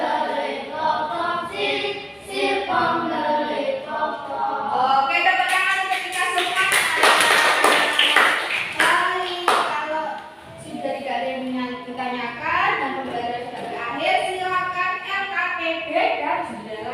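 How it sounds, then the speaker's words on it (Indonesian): A school class in Indonesia breaks into loud, sustained hand clapping for a few seconds, with children's chatter and talking before and after the applause. "Oke, tepuk tangan untuk kita"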